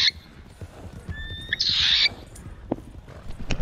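A horse in the video game Red Dead Redemption 2 gallops with a steady clip-clop of hooves and lets out a sharp whinny partway through.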